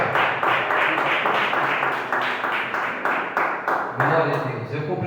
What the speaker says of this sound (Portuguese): As palmas, igreja